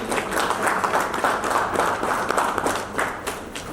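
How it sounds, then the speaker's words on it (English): An audience at an international education panel claps for a guest, a lively round of many hands with distinct individual claps popping through, the level swelling and dipping over several seconds. "A big round of applause for Duggal ji."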